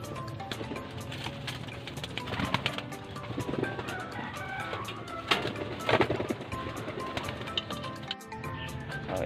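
Five pigeons let loose outdoors coo and call amid flurries of wing flaps and scuffling, close by and continuous with no talk over them.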